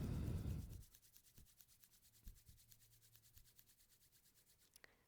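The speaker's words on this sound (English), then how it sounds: "Rub the palms together." Palms rubbing briskly together at the end of a kundalini yoga session: a soft, rapid rhythmic swishing, faint and close, continuing steadily for several seconds after a brief louder rustle.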